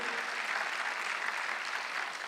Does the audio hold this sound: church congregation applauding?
yes